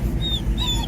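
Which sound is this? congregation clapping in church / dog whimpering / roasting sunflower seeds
dog whimpering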